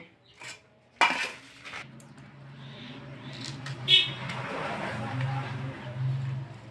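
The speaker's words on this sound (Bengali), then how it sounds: "কচুর ফুলগুলো আমি কেটে নেব" A knife cuts taro (kochu) flowers, giving a few sharp clicks against a board amid a quiet kitchen with low background hum.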